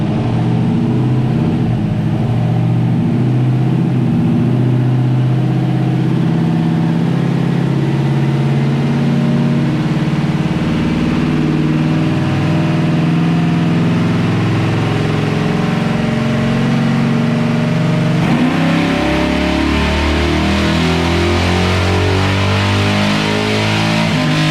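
Chevrolet Silverado pickup accelerating with its exhaust cutouts uncapped and open: a loud, steady, throaty engine drone building in pitch through a long pull, shifting and rising again near the end, with no talk.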